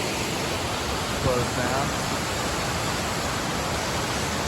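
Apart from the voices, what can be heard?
waterfall beneath a footbridge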